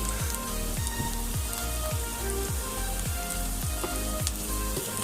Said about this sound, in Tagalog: ilagay naman natin ang bawang